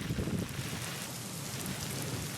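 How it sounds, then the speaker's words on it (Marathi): Steady rain falls in the Sindhudurg district, a constant soft hiss of drops on surfaces, fairly faint and unbroken, with no voices. "सकाळपासूनच जिल्ह्यात सर्वदूर पावसाची संततधार सुरू आहे"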